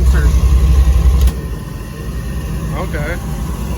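A Baja Outlaw boat engine rumbles loudly through its exhaust, then drops to a quieter, muffled drone as the silencers close, while someone talks over it.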